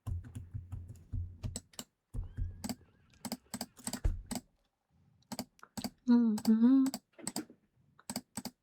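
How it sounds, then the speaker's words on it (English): Sharp, clicky computer mouse clicks in scattered single and double taps, close and fairly loud, over a stretch of keyboard typing, with a brief murmured voice in the middle. "I need to find a less clicky mouse. I know you guys can hear it."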